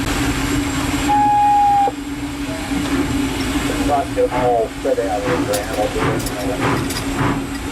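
A steam locomotive at an old threshers' show in Mount Pleasant, Iowa, begins to roll, with a steady low rumble, hissing, a brief whistle-like tone and rhythmic chuffing bursts building up, while people talk over it nearby.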